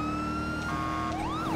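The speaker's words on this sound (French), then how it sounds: "l'alarme du véhicule, comme s'il a été volé" Wailing siren from a stolen car in the GTA LSPDFR police game, during a Chevrolet Corvette C8 Stingray chase, sweeping up and down continuously over a steady engine drone.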